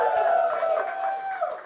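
A live studio crowd at a sports talk show cheers and whoops steadily for a couple of seconds, loud and close, with a sustained high shout running through the noise.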